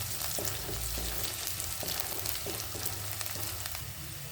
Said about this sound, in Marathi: कांदा छान परतला आहे थोडासा कढीपत्ता बारीक चिरून घेतला आहे